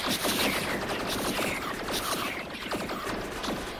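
Laser turrets in Factorio with Bob's Mods fire at a swarm of spiders, making a busy, continuous clatter of rapid mechanical zaps and clicks at close range.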